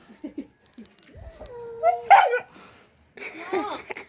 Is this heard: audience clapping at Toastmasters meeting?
no